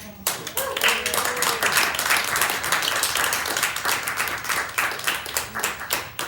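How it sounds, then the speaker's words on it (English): An audience at a live spoken word reading in a gallery bursts into applause, a lively, dense clapping that swells and stays steady for several seconds, with a voice speaking briefly at the start. "So please, let's have another round of applause for him."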